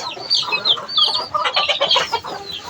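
Hens clucking on a rooftop where they lay eggs, a close, busy run of short overlapping clucks and squawks with no pauses.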